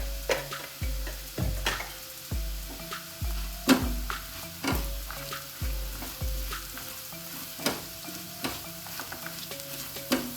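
Turmeric powder added to a sautéed spice mixture sizzles steadily in a pan for a Kerala buttermilk curry, while a spoon scrapes and taps the pan in a regular stirring rhythm with sharp clicks.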